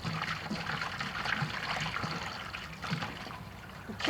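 Running water trickles and splashes steadily over bullfrog meat being rinsed in a kitchen to wash off blood and beer, a continuous close watery patter with small irregular splashes and no talking.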